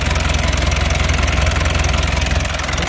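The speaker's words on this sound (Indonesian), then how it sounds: "Suara mesinnya juga masih sangat renyah." A 1983 Daihatsu Taft F50 Hunter 4x4 diesel idles close up, a steady, even low chugging rumble with a fine rhythmic pulse, loud and continuous with no voices.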